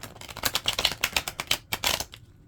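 Tarot deck shuffled by hand in halves, giving a rapid run of crisp riffling card clicks and flutters for about two seconds, close and fairly loud, with no talk over it.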